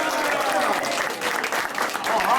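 Studio audience at a live radio show bursting into loud, dense clapping on cue, sustained steadily through the whole moment with no talk over it.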